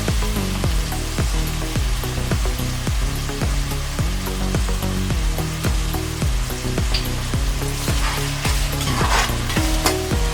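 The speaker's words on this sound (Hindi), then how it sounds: "अभी हम इसको फ्राई करके लेंगे ब्राउन होने तक।" Chicken gravy ingredients fried in a pan until brown, restaurant style: a steady loud sizzle with rhythmic scraping stirs repeating about every half second, close and continuous, with no talking.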